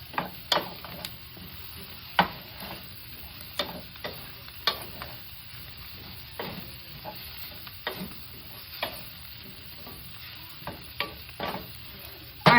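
Stir-fry dinner sizzling in a pan as sauce goes in to deglaze stuck crispy bits, with a steady frying hiss broken by repeated sharp scrapes and knocks of a utensil stirring at an irregular pace.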